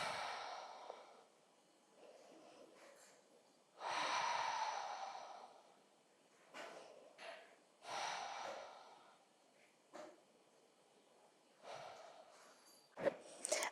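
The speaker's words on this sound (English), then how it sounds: "Just take a couple breaths here." Slow deep breaths during a yoga session aimed at easing bloating, taken lying face-down: audible breathy inhales and exhales with sighing, snort-like airflow, close and quiet, recurring several times with pauses between.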